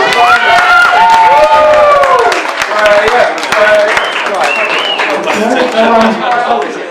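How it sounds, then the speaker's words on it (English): Guests at a wedding reception applaud and cheer, with clapping mixed with loud shouts and whoops throughout and voices rising above the crowd noise. "Please give me a round of applause."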